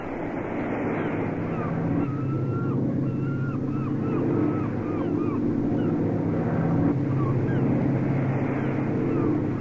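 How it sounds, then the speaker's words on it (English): A droning propeller plane passes overhead at sea, a steady low engine hum over open water with faint wavering tones, continuous and moderately loud throughout. "It's a Coast Guard search plane."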